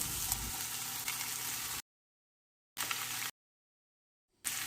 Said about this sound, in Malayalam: അരിഞ്ഞു വെച്ചിരിക്കുന്ന കഷ്ണങ്ങളിലേക്കിട്ട് ഓയിൽ എല്ലാ ഭാഗത്തും പിടിക്കുന്ന പോലെ നന്നായിട്ടൊന്ന് ഇളക്കിയെടുക്കണം